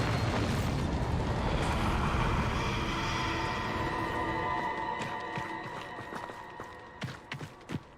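A Bombarda explosion spell in the video game Hogwarts Legacy goes off as a loud, broad roaring blast that rumbles and slowly fades, followed by scattered small debris clatters.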